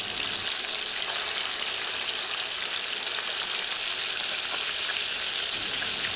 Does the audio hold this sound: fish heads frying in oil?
yes